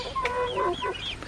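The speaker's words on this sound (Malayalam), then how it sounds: "നമ്മൾ വീട്ടിലത്തെ കോഴിനെയാണ് പിടിക്കാൻ പോകുന്നത്." Village backyard chickens cluck close by in a short burst of overlapping, rising and falling calls from several birds.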